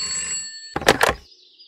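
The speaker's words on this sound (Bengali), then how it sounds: "সপ্তাহের শেষে আমার ফোন বাজলো।" Telephone ringing, a bright electronic ring tone at first, then two quick loud bell bursts close by, followed by a fading tone.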